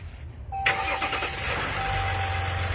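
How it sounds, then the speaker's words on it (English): A black Dodge Ram 1500 EcoDiesel truck engine cranks and fires up after a brief quiet moment, then settles into a steady, close diesel idle rumble with a faint whine. "hearing the engine of EcoDiesel turn on"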